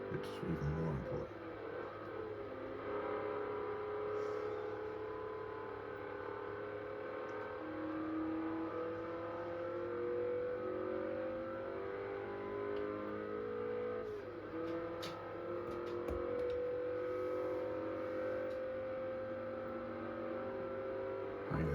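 A stock 2011 Kia Cee'd engine drones steadily through a lap of the Nurburgring in an Xbox racing game, a continuous loud hum with slowly shifting pitch as it accelerates and shifts, other cars around it.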